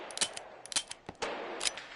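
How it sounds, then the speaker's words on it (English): A suppressed gun firing in a VR shooter game, several short muffled cracks with a mechanical clack in uneven bursts, fairly quiet and close, with no talk. "It's one of the most quietest guns with a suppressor."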